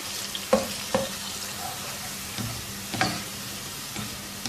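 Sliced large onion frying in hot oil until golden brown, a soft steady sizzle with a few sharper stirring knocks against the pan, heard up close with no talk.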